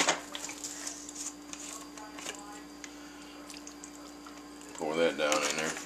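Teriyaki marinade pours and splashes into a bag holding a tenderloin, with soft gurgles and squishes, close by, with a voice speaking near the end.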